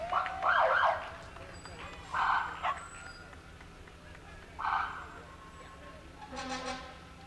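An ambulance siren sounds during a Memorial Day parade in Piscataway, giving short wailing bursts at a moderate distance over crowd noise and a steady background hum.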